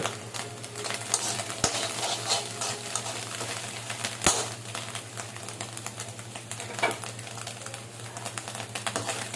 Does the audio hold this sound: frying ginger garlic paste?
yes